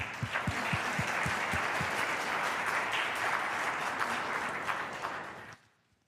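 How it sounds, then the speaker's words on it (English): Audience applause at a Christmas recital, a dense, steady wash of clapping that holds for over five seconds before quickly fading out, with a few sharper individual claps early on. "So I'm just gonna give you a round of applause."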